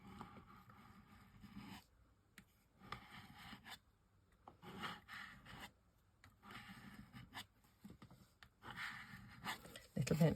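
Black paint being spread with a kitchen herb scraper, giving soft intermittent rubbing and scraping strokes with short pauses between passes, close and fairly quiet.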